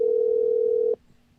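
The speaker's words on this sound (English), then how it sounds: "The telephone is ringing." Telephone tone, a single loud steady pure pitch held for almost a second before stopping abruptly, leaving near silence.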